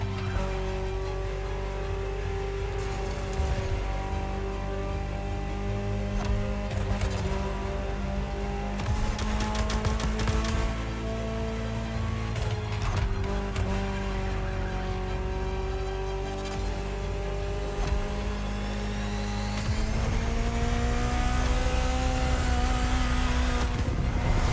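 A Ferrari supercar's engine drones steadily while it drives in the racing game The Crew Motorfest, with its pitch climbing and falling through gear changes and occasional tire noise, loud and continuous and with no voices.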